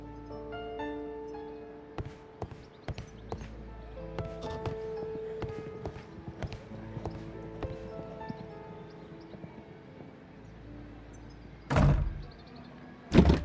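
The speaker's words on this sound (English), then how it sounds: "The door is now blocked." A door is moved and blocked in the Sherlock Holmes: Crimes & Punishments video game: faint wooden creaks and scattered clicks over low ambience, then two loud, sharp heavy thuds near the end.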